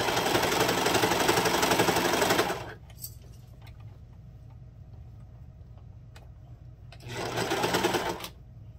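A sewing machine stitches a neck band onto a night gown in two close, rapid whirring bursts, a long one first and a shorter one later, with a quiet pause between them.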